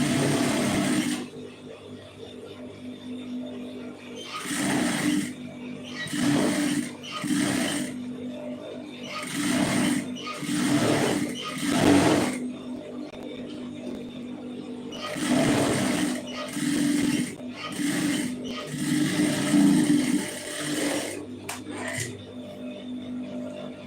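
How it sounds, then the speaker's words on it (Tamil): A sewing machine stitches a plain blouse in repeated short bursts of whirring motor and needle clatter, separated by brief pauses, with a low background hum. "திருப்பிட்டு இந்த தையல் வந்து போட்டுடலாம்"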